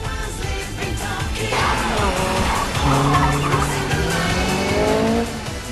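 An animated Mazda RX-7 FD and Toyota AE86 race on a mountain pass, close and loud, with screeching tire squeal sliding up and down in pitch over the roar of the engines.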